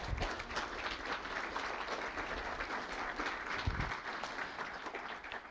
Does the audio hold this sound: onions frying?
no